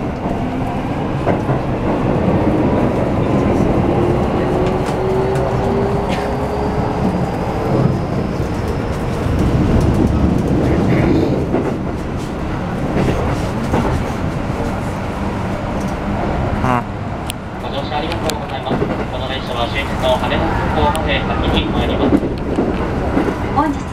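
A Keikyu New 1000 series express train bound for Haneda Airport on the Keikyu Main Line runs at speed, with a loud, continuous rumble, wheel-on-rail noise and rising motor whine inside the car, and a Japanese announcement voice heard over it.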